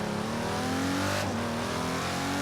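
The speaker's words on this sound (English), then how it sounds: "Sounds like it might be twin turbo." A twin-turbo car engine in Forza Horizon 3 revs hard and continuously, its rising, layered tone loud and close throughout with no voices.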